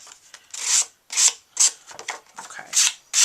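Rhythmic bursts of dry, raspy scraping, about eight strokes, close up and fairly loud, as rough paper edges are sanded briskly, with short pauses between strokes.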